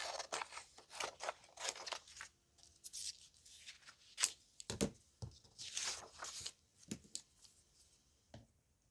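Scissors cutting paper ephemera for a junk journal collage, a quiet run of crisp snips and rustling paper with small irregular crunches, close and alone.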